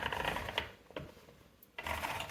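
A warp is wound onto the beam of a rigid heddle loom, a soft, close mechanical rattling and ratcheting that pauses briefly before resuming.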